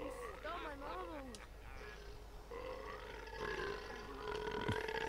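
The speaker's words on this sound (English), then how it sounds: "Let me see if I can belch at one of these guys" A character belching in the video game Fable II, giving a few drawn-out, wavering croaks near the start, then low grunting game sounds over background ambience.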